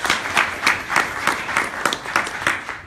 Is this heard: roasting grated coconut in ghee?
no